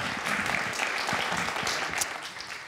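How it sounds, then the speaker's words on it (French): An audience at a talk on scallops bursts into applause, a dense, steady clapping that holds at full strength throughout with no talk over it. "Applaudissements pour lui, s'il vous plaît."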